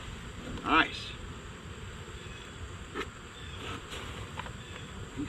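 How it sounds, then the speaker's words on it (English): A swarm of honey bees being caught into a hive hums in a low, steady buzz, with a brief louder burst and faint clicks of handling, and a person talks quietly nearby. "You can see that's a lot of bees, everybody."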